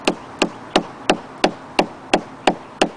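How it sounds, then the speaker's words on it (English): A hammer strikes a wooden pole above an aluminum date nail nine times at a steady, even pace, each blow a sharp, close knock with a brief ringing decay. "start striking straight in above the nail"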